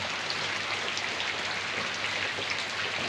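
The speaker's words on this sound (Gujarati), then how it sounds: "આ વરસાદ પડે છે બહાર બહાર જ હું બેઠો છું" Steady rain pours outside, a dense continuous hiss of drops on surfaces with no breaks and no voices.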